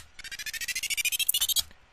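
Fast up count sound effect from a techno remix: a rapid run of about twenty bright, pulsing electronic blips climbing in pitch over under two seconds, fairly quiet and alone.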